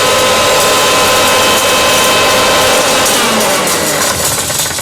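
Mixer grinder whirring loud and steady as it powders sesame seeds, a continuous high-pitched motor drone with no break.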